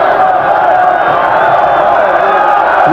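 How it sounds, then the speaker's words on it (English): Big stadium crowd at a 1985 USFL night football game at the Liberty Bowl in Memphis, a steady, loud roar of massed voices with no breaks throughout. "at the Liberty Bowl for a big crowd in Memphis, Tennessee tonight"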